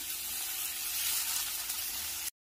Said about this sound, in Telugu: 2 పచ్చిమిరపకాయల చీలికలు వేసుకొని కొద్దిసేపు ఫ్రై చేసుకోవాలి